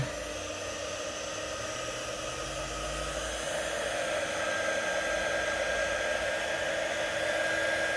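A heat gun blows steadily while shrinking heat shrink tubing over the wiring of new LED side marker lights on a Honda Civic coupe, producing a constant close whooshing whir for about eight seconds with no talk.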